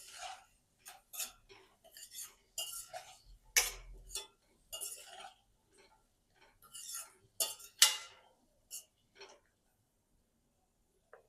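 A spoon working turmeric and red chilli powder into poha in a pan, making intermittent light clinks and scrapes in short bursts separated by quiet gaps, close and fairly soft.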